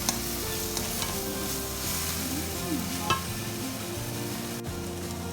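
Tofu, shiitake mushrooms and ginger stir-fry in a pan with a steady close sizzle, broken by scraping stirs and an occasional clink of a utensil.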